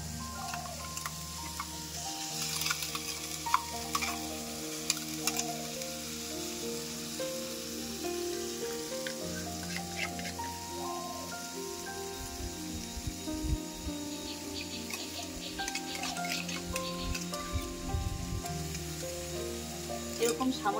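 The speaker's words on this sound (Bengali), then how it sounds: "এরকম সামান্য একটু ভেজে মশলাটা দেবেন, তাহলে ভালো লাগবে, পেঁয়াজ আদা রসুন।" Onion, garlic and ginger paste frying in a pan, a soft continuous sizzle with occasional stirring scrapes, fairly faint and heard under background hum and tonal sounds.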